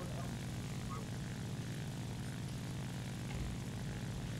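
Propeller drone of an observation aircraft in a NATO squadron battle video game, a steady loud engine hum running without pause.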